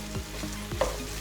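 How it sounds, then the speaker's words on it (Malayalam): Fried shrimp sizzle in a hot pan as a utensil gives a few quick scraping stirs, with one sharper clink partway through, close and moderately quiet. "നന്നായിട്ടൊന്ന് മിക്സ് ചെയ്തെടുക്കുക വേണ്ടു"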